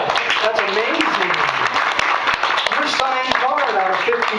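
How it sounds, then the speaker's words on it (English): Audience applause at a magic show, a dense wash of clapping running throughout under a loud voice talking over it. "Give them a round of applause."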